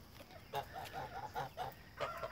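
A goose on a small farm honks several times in a loose rhythm, moderately close, in an outdoor flock setting.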